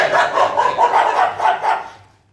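A Thai Ridgeback dog barks in a steady run of about seven close, loud barks that trail off at the end.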